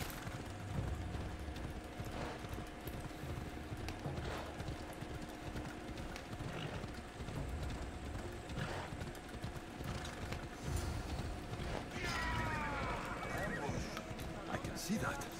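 Horse hooves clatter and a horse neighs during a chase in the Assassin's Creed video game, heard over steady game background sound with voices talking throughout.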